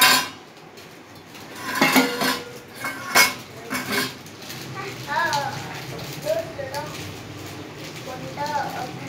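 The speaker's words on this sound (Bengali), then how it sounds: "মাছের ঝোলটা রেডি হওয়ার মাঝখানে আমি বাটিগুলো ধুয়ে নিলাম" Ceramic bowls clink and clatter while being rinsed by hand in a home kitchen, with a few louder knocks early on, then lighter scattered taps and rattles, close by.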